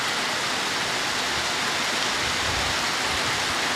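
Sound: heavy rain falling

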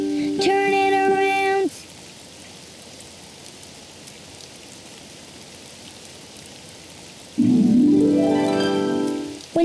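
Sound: rain falling outside

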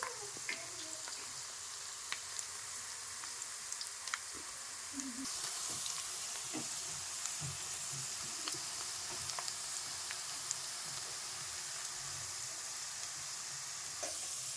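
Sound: onions frying in a pan while being stirred

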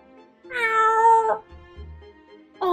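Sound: kitten meowing in the video game Choices: Stories You Play

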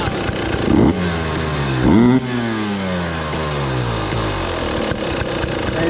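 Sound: Husqvarna TE 300i 2020 two-stroke motorcycle engine revving, TPS test

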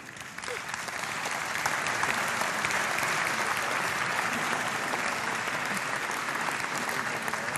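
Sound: applause for the conductor

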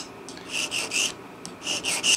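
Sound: filing a guitar nut area with a nut and saddle file

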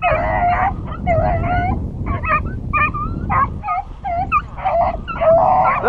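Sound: hunting dogs chasing a rabbit

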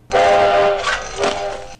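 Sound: loud train whistle

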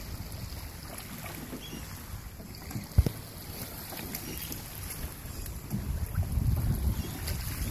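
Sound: big boat wake waves hitting a dock

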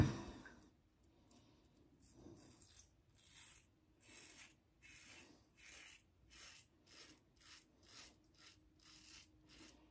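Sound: shaving with an Edwin Jagger 3one6 safety razor

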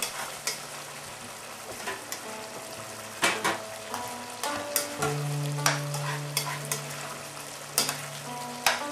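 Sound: stirring cornstarch into boiling ma po tofu sauce

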